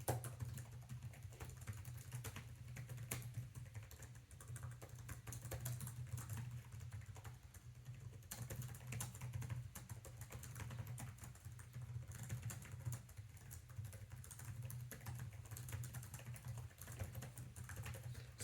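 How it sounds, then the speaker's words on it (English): Steady, continuous typing on a Dell Precision 3520 laptop keyboard, a dense run of quiet, soft key clicks at close range throughout, with a low steady hum underneath and no talking. "the typing on this laptop is really good. I like how well the keyboard is designed."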